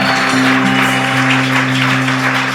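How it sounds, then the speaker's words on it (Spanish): A church congregation claps in praise during a sermon, a loud continuous wash of applause over a sustained low organ-like hum, with no clear breaks. "Aplauda al Señor."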